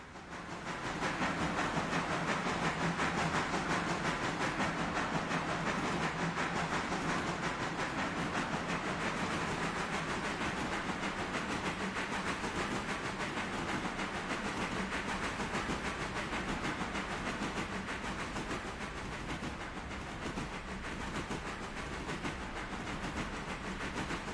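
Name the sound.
locomotive running on rails in Railroader video game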